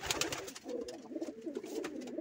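A pigeon coos in soft, rounded, rhythmic phrases close by while sitting near its newly hatched chicks, the low throaty calls repeating without pause over a quiet background.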